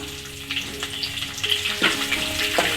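Chilies and curry leaves crackle and sizzle in hot oil for citron rice, a steady close frying hiss with sharper spits and pops every second or so.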